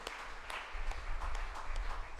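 Brief burst of scattered hand clapping from a church congregation thanking God, a loose patter of claps at moderate distance, no speech over it.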